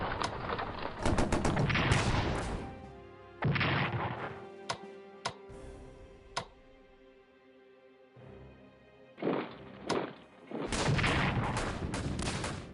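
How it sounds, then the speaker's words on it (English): Artillery shells firing in the World War I strategy game Strategic Command WWI, heard as heavy booming volleys and rumbling bursts alongside sharp isolated cracks, loud and close, with short quieter gaps between barrages. "just hammer the morale out of this guy with artillery shells"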